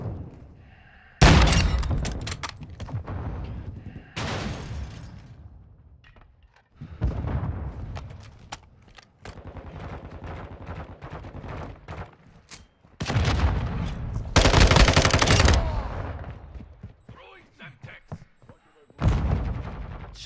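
Gunfire from Call of Duty: Modern Warfare II rings out in loud, dense bursts of rapid shots and booming blasts, separated by brief lulls, with voices talking over parts of the firefight.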